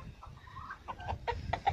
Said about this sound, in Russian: Вот, друзья, наши курочки бегают здесь.